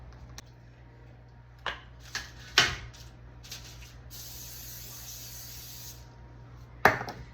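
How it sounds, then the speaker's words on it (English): Short hissing bursts of cooking spray from an aerosol can onto parchment paper, a few quick puffs followed by a longer spray, with light clatter in a quiet room. "now we need to spray our parchment paper."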